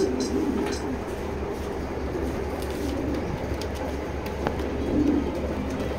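Pigeons at a pigeon loft coo and rustle softly over a steady low rumble, with a few faint knocks and scattered bird sounds and a voice heard now and then.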